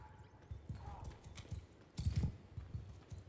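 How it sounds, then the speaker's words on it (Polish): Horse hooves in the Mount and Blade 2 Bannerlord video game, a rhythmic series of clip-clopping steps at moderate volume that swell louder near the end. "Ale to jest koń szybki"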